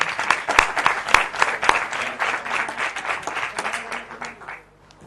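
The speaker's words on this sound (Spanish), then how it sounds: "un aplauso para los que estamos aquí, para los ponentes" A small audience claps for the speakers at the close of a health promotion conference session, a thin crowd producing distinct individual claps in a loose rhythm that fade out near the end, with little talk.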